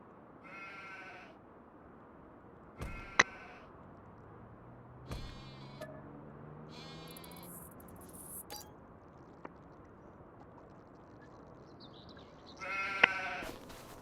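Sheep in the Farming Simulator 25 video game bleat several times at scattered intervals, clear and close against a quiet ambient bed with a few small clicks and a low passing engine hum.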